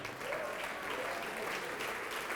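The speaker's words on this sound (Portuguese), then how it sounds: "vamos aplaudir mais" Church congregation applauding during a sermon, a steady wash of clapping that sounds faint and distant, with a voice faintly audible underneath.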